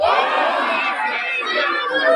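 Dense crowd noise from an audience at a Balinese bondres comedy performance during a Pitra Yadnya ceremony in Sangsit, Singaraja, with applause and chatter blending into a steady, loud wash throughout.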